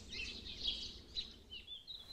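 Birds sing outdoors, a few high chirps and short trills at moderate distance over a quiet background.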